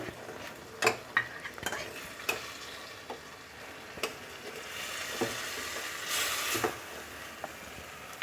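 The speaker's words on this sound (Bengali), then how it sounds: "আর একটু এটাকে আমি কষিয়ে নিচ্ছি আমার মশলাটা কষানো হয়ে গেছে" Spice masala with fresh green peas sizzles steadily in a pan for a cabbage curry, with a spatula stirring and scraping in irregular knocks and a louder hiss swelling near the end; close and fairly quiet, no talk.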